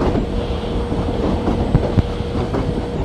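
An electric locomotive hauling a double-decker train in Indian Train Simulator rolls along at speed, with a steady rumble and rhythmic clickety-clack of wheels over rail joints, close and continuous.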